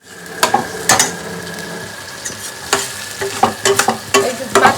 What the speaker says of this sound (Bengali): মাছের ঝোলে মশলা কষানো হচ্ছে একটু একটু করে